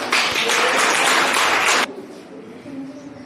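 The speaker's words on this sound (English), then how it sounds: "Give a clap, students." Students at a school Teacher's Day celebration clap together in a loud burst for nearly two seconds, then the applause cuts off abruptly, leaving quieter room sound with faint voices.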